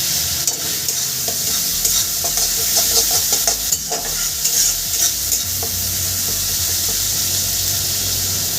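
Spice masala with onion and garlic sautéing in a pan as a fish curry base, with a loud steady sizzle and hiss and busy scraping of a spatula stirring, close up and without speech.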